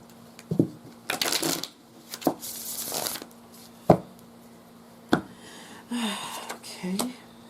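Tarot cards being pulled and flipped, giving scattered crisp slaps and brief shuffling rustles at irregular intervals, close and fairly soft, with quiet voice sounds between them.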